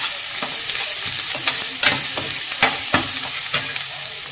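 Onions and curry leaves sauté in a pan for tomato chutney: a crackling sizzle, close up, punctuated by rhythmic knocks and scrapes of a spoon stirring against the pan.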